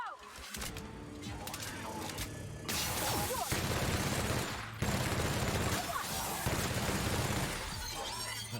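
Gunfire aimed at sentries in The Outer Worlds video game: a sustained, loud volley of shots with shattering, metallic crashes, running almost unbroken with a few sharp jumps in intensity.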